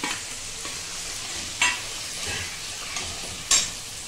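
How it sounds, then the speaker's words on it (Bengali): Ground cumin, coriander, turmeric, chilli powder and salt stirred into ginger frying in a pan: steady soft sizzling with a few sharp scrapes and taps of a spoon against the pan, close by. "এখন দিয়ে দেবো জিরে, ধনে, হলুদ, লঙ্কার গুঁড়ো, নুন একসঙ্গে।"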